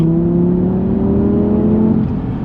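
A 2019 Audi TT RS with its 2.5-litre five-cylinder engine drones loud and steady from inside the cabin, holding a deep, throaty tone that climbs slightly in pitch before easing off.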